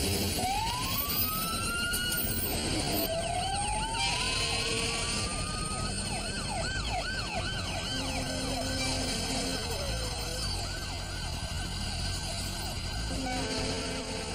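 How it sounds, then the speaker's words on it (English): Several fire engine sirens from eleven engines racing downtown in Oklahoma City wail and overlap, rising and falling amid a busy, noisy street with rumbling traffic. "From across the city, 11 fire engines race downtown."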